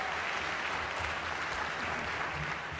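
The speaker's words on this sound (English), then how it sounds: "it's time to make good with the applause and welcome our very first presenters" An audience applauds at the 2008 Antenna Awards show, an even, continuous roar of clapping from a large crowd at moderate volume with no voices over it.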